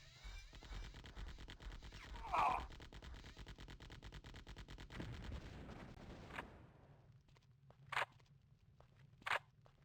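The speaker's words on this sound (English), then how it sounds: "Do we think I can Uzi down a hunter-killer?" Uzi submachine gun fire aimed at a hunter-killer in a Terminator shooter game, a dense rattling burst through the first half that drops away into quieter game ambience with a few sharp isolated hits later.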